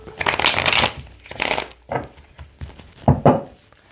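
Cards riffle and slap together in several rapid bursts, crisp and close, with soft knocks between the shuffles.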